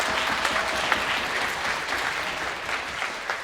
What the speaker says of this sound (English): clap it up for my sister